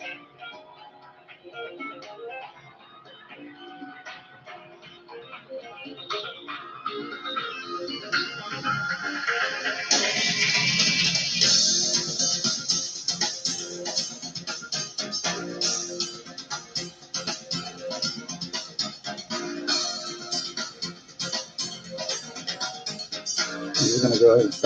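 A music tune plays through a smart connected light bulb's built-in speaker, a thin, bright melody that builds and fills the upper range, carrying steadily at moderate loudness.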